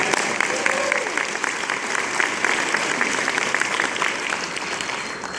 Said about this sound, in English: let's give another round of applause to Senior Airman Brittany Bailey